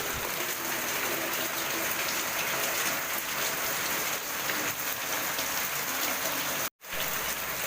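Heavy rain pours down in a dense, steady hiss that drums on surfaces for the whole stretch, broken only by a split-second dropout near the end.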